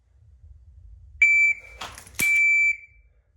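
A shot timer's steady electronic beep sounds twice during dry-fire pistol practice, each tone held about a third to half a second, separated by a brief burst of noise, in an otherwise quiet space.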